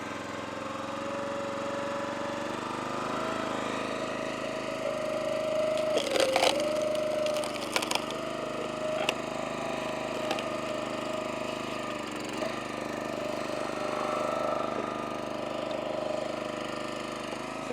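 Pieces of hickory firewood knock and clatter as they are handled, making a few sharp wooden clunks over a steady, running engine hum that continues throughout.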